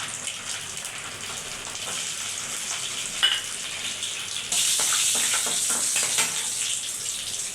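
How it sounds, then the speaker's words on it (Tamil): Mustard seeds, fennel, cumin and garlic sizzling in hot tempering oil, a steady close crackle that suddenly grows louder and more hissing partway through, with scattered pops and small spatters. "தாளிக்கு எண்ணெய் ஊற்றியாச்சு. கடுகு, சோம்பு, சீரகம், அதுதான் சோம்பு, பூண்டு"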